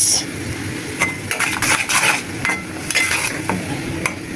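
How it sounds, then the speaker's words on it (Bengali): Turmeric, chili powder and green chilies stirred and fried in a pan for a gourd and fish curry, with a steady metal spatula scraping and clinking against the pot over a soft sizzle, close and continuous. "মশলাটা আমি কষাই"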